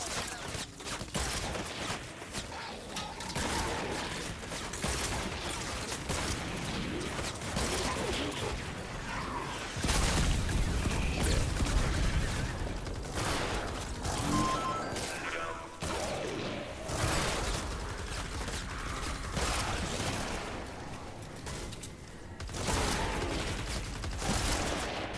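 Rapid gunfire from the video game Fortnite Save the World, with dense bursts of shots and mechanical clatter running almost continuously, with a heavier low-end stretch midway.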